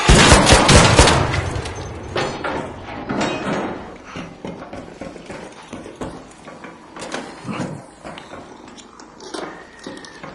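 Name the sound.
shotgun fire in the video game Arc Raiders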